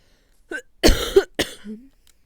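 A few short, harsh coughs close up, one after another, with a brief throat-clearing sound at the end.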